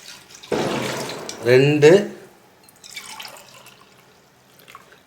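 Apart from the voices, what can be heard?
coconut milk being poured into the pot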